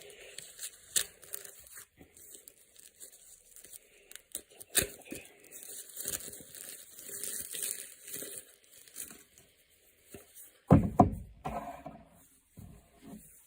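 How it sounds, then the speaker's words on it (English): An Invicta 22020 Pro Diver watch is unwrapped from its brand-new packaging, with close, intermittent crinkling and tearing of plastic and paper and a sharper burst of rustling near the end. "So obviously I've got to take it out of this package because this is actually brand new."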